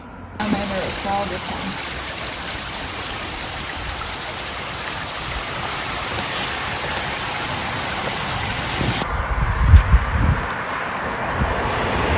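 A waterfall in the Smoky Mountains fills the scene with steady rushing water, a continuous broadband roar, with a few low bumps and handling noises near the end.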